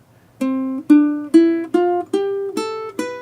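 Seven plucked string notes rise one by one in a steady, unhurried rhythm, each ringing briefly before the next.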